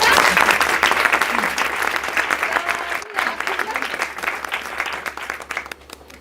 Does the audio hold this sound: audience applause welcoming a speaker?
yes